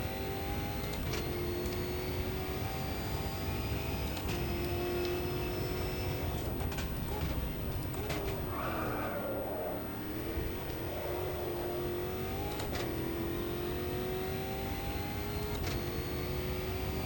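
Race car engine in the sim racing game Automobilista 2 at Donington, droning steadily throughout with rising and falling pitch as the car accelerates and shifts, occasional revving swells and no talk.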